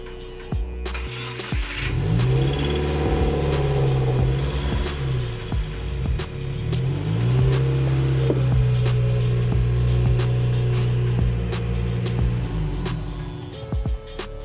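A 2015-2021 Subaru WRX/STI engine with a muffler delete revs up and down repeatedly with a loud, raspy exhaust note, the throaty roar rising and falling throughout.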